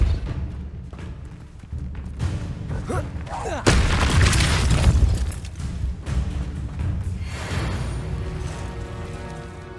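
A Depulso spell is cast in the Hogwarts Legacy video game, landing as a loud booming blast with a thudding impact about midway, over a dense rumbling game soundscape that carries on afterward.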